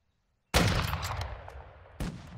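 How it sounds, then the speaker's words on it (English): Burst of gunfire in the Warzone Mobile shooter game: a sudden loud volley of shots with a decaying rattle, then a second shot near the end, with no talk. "I don't know why you're shooting at me."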